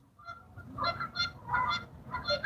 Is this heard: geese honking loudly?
yes